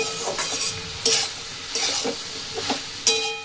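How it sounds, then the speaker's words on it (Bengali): A spoon stirs and scrapes a vegetable mixture with beans frying in a pan, soft sizzling underneath and repeated scraping strokes about once a second, no talking. "আবার এইভাবেই একটুখানি কষিয়ে নেব মানে মিশিয়ে নেব বা ভেজে নেব"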